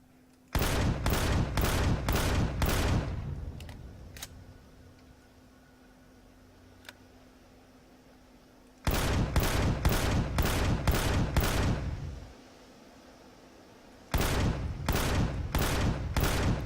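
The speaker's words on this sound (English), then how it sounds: "I must have been shooting past it just a second ago" Gunfire in the Empyrion: Galactic Survival video game comes as three bursts of evenly spaced loud shots, each lasting a few seconds, with quiet gaps holding a low hum and a few faint clicks.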